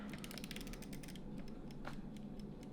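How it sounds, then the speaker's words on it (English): A mechanical kitchen timer in a workshop being wound to fifteen minutes, giving a steady run of close, dry clicking and ratcheting creaks with no pauses. "I'll put 15 minutes on this timer right here"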